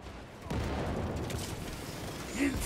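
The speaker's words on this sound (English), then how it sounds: "What's the heavy shooting at?" Heavy gunfire rattles in the video game Space Marine 2, a dense, continuous fusillade heard at moderate distance and fairly faint, with a single louder burst near the end.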